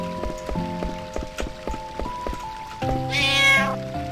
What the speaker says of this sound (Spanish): ¡Ay, Dios, que es un gato!